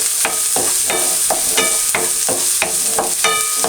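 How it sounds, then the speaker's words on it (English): Chopped onions sizzle and fry in a hot pan for Texas beef chili, with a steady hiss broken by rhythmic scraping and stirring bursts about every third of a second, close and fairly loud. "you can tell that the pan is already hot because the onions have started to fry as soon as they've hit the pan"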